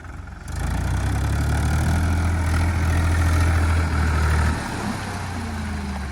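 A tractor engine idles with a steady, deep rumble close by, beside a river after being washed, its tone easing slightly near the end.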